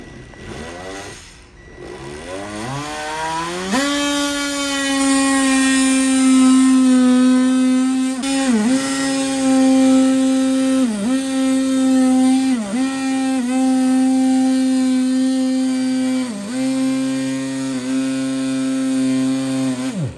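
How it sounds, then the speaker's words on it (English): An oscillating vibratory saw fitted with a metal blade cuts through a 5th Gen Toyota 4Runner rear bumper, a loud steady buzzing whine held for about twenty seconds, with brief dips where the blade eases off between passes. "You have to use these vibratory saws with a metal blade."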